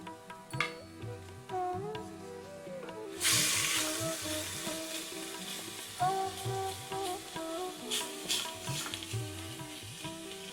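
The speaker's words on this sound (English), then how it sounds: "Stir the lamb as you add it to stop it sticking to the bottom of the pan." Lamb browns in ghee in a pan for an Indian biryani, a steady sizzle that surges sharply as more meat goes in, under stirring and scraping with intermittent clinks.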